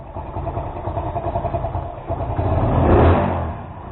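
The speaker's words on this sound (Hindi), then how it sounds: "बाइक पे चला रहा हूँ after 14 years and this is Splendor 2003 model" A 2003 Hero Honda Splendor motorcycle engine runs while riding on the road, a close, loud, pulsing putter that swells as it revs up near the end, with no talk.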